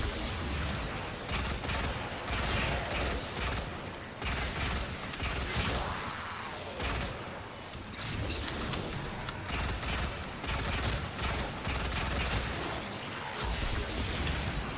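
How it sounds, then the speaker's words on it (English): Rapid automatic gunfire and booming impacts from Warframe gameplay, with dense, continuous bursts and blasts filling the whole stretch at steady loudness. "since I'm always using my gun, I'm always running around shooting it"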